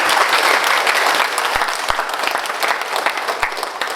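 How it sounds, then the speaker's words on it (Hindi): An audience at a company's first anniversary celebration claps loudly and continuously, a dense wash of hand claps with a few sharper individual claps standing out as it thins toward the end. "मारो ताली, मारो ताली"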